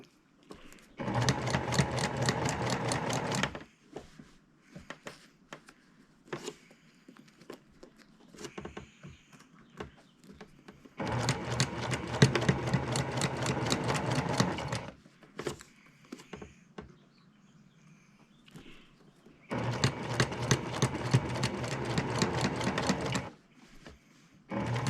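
Pedal-driven sewing machine stitching a quilt runs in three loud, steady bursts of rapid stitching, each several seconds long, separated by quieter gaps of small clicks and handling noise.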